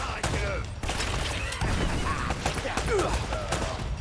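Gunfire from the video game Uncharted: Drake's Fortune: rapid bursts of shots and sharp impacts, with clattering and crashes, keep up through the clip while someone talks over the action.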